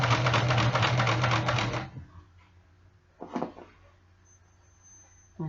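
A sewing machine runs briefly and loudly, stitching a Harley leather jacket sleeve, then stops, followed by a short mechanical clatter and quiet handling noises.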